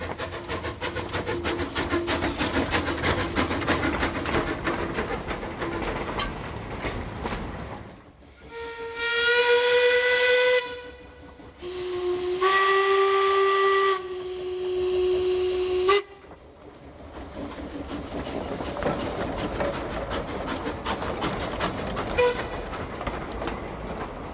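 Steam locomotive L507 of the Western Springs Railway sounds its whistle in two long, loud blasts with a short gap between them, set between passages of rhythmic chuffing and hissing steam.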